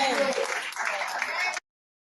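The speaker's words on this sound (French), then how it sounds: "quelqu'un peut acclamer très fort pour Jésus" A church congregation at a Jesus prayer service claps and cheers in dense, loud applause that cuts off abruptly after about a second and a half.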